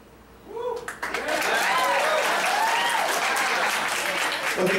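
Audience applause in a comedy crowd, building quickly after a short quiet start into steady, loud clapping that fills the room, with a voice and some whoops heard over it.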